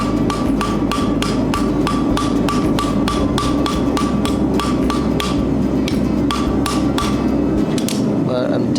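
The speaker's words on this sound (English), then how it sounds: "now I'm just peening it over, starting it off so it tightens." A hammer rapidly peens a hot metal hinge on an anvil, about twenty steady ringing blows in a quick even rhythm, close and loud over a low background hum.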